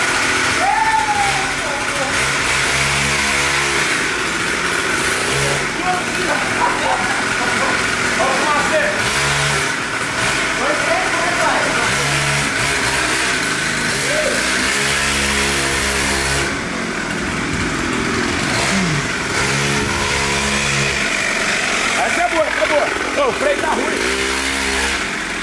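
Motorcycle engine revving loudly and close throughout, with rising and falling throttle bursts and steady engine drone while people shout and talk over it.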